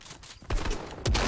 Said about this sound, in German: ich schieße mal einfach auf dich weiter